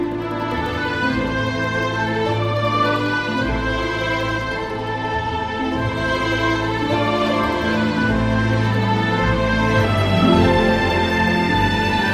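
An orchestral theme from the Syberia soundtrack plays continuously, a reedy oboe lead carrying the tune over a full, sustained accompaniment with a balalaika in the background, no voices.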